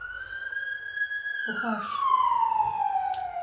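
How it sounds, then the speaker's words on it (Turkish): An ambulance siren wails as it passes by outside, its steady tone dropping in pitch as it goes, while a voice speaks briefly over it. "Allah yardımcısı olsun, ambulans geçti."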